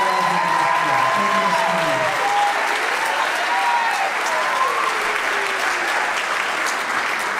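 A steady, loud wash of audience clapping fills a hall at a spring school choral concert, continuous throughout, with voices faintly audible beneath.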